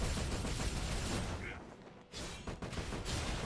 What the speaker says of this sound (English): The explosions are too real.